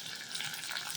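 Onion sautéing in a kadai, a brief, quiet, even hiss of frying with no voices.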